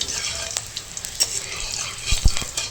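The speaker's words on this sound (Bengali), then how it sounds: "ফোড়নটা একটু ভালো করে ভেজে নেব" Tempering with slit green chillies crackles in hot oil for aloo bhindi, a close, steady frying hiss with a couple of sharp pops and stir knocks near the end.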